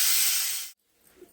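A pressure cooker cooking tomato dal lets out a loud, steady rush of steam after its whistles. The hiss cuts off abruptly, and faint quiet sounds follow.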